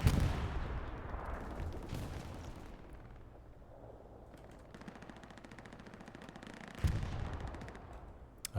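Machine gun fire from an MG emplacement in Hell Let Loose on the Omaha map during a competitive match, steady rapid bursts rattling under distant battlefield rumble, with a louder blast near the end and no talk.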